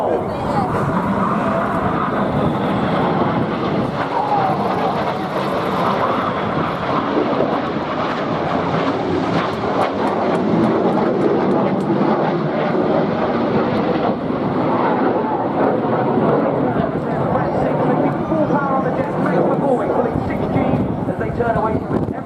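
RAF Red Arrows jets fly opposition barrel rolls at the Eastbourne Airborne 2016 air show, a continuous loud roar of engines mixed with wind buffeting, with speech heard faintly underneath.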